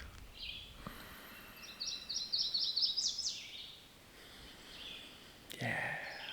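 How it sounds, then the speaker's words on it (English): Birds sing outdoors in faint, short bursts of high chirping and trilling over a quiet background hiss, with a soft breath or snort-like sound between phrases. "I'll let you listen to some birds as I take a couple of nice slow breaths."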